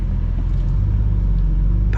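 A 2023 Porsche 911 GTS with PDK gearbox in Sport Plus mode, heard from inside as a steady, loud, low engine rumble that holds its level throughout without a clear rise in pitch.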